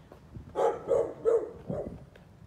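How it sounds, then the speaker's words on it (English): A puppy gives four short, high yips in quick succession, faint and somewhat distant, with no talking over them. "Neighbor's got a new puppy."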